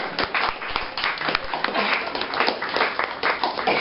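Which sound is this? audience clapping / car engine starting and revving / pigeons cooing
audience clapping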